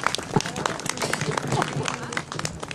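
Audience applause during a heritage-day tour of the municipal cemetery in Punta Arenas: dense, moderately loud clapping from a gathered group outdoors, with voices mixed in throughout.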